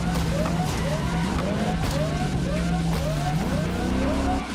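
Car driving in Cyberpunk 2077 Phantom Liberty, a steady engine drone with repeated rising whines as the vehicle accelerates and shifts, loud and continuous throughout with no talking.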